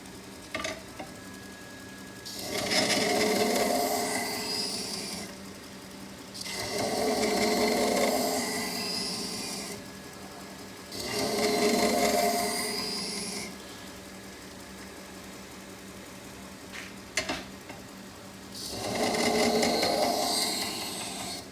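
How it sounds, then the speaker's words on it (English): A knife blade is polished on a 3000 grit ceramic abrasive belt, making four separate hissing, grinding passes of about three seconds each with quiet gaps between them, close up and without speech. "final abrasive belt that I will use, is a 3000 grit ceramic abrasive belt. This puts the final polish on the blade before stropping it"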